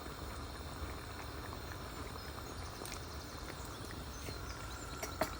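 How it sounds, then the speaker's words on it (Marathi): Konkani fish curry simmers in a pot with a steady, soft bubbling hiss and occasional small pops, close and continuous with no voices. "कडी बरें शिजपा लागला."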